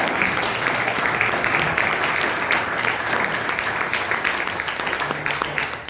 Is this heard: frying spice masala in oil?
no